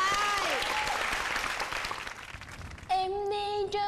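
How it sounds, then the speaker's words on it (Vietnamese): Studio audience on a Vietnamese comedy matchmaking show breaking into applause, a moderate wash of clapping that fades out before a bright musical accompaniment starts near the end. "vỗ tay"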